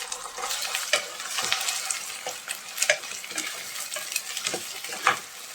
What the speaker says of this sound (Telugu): ఈ విధంగా బాగా ఫ్రై చేసుకోవాలి.